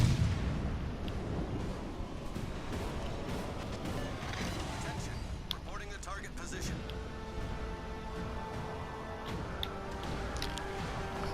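Naval guns boom repeatedly aboard the USS Oklahoma in the World of Warships Legends video game, heavy blasts rumbling amid battle noise while someone speaks over the action.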